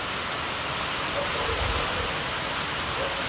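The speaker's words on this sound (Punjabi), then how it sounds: "ਠੰਡੀ ਠੰਡੀ ਹਵਾ ਤੇ ਮੀਂਹ ਦਾ ਨਜ਼ਾਰਾ" Steady rain pours down, a dense even hiss of drops hitting surfaces, with a faint low rumble partway through.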